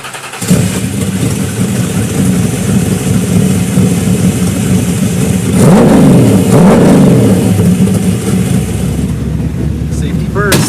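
A 1960s-style Shelby Mustang with a 427 cubic inch Ford V8 rumbles close by, idling then revving hard around the middle before settling back, with people talking over the engine.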